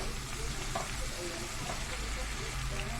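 Chicken pieces and onions frying in a pan, giving a steady, dense sizzle that holds throughout without a break.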